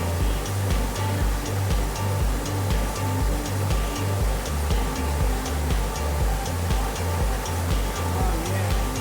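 Cold water rushes steadily at a secluded backwoods spot, a loud, constant broadband wash with a rhythmic low thumping beneath it and no talk.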